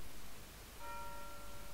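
A school chime sounds in the video game A Bird Story, a faint sustained bell-like tone that starts partway through and rings over a soft hiss of background noise.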